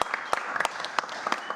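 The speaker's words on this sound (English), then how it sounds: "can we get a big round of applause for William and Martha?" Audience applause at a wedding filmmaking workshop in Colombia honoring the organisers, a short burst of dense clapping with a few louder individual claps standing out, moderately quiet and fairly close.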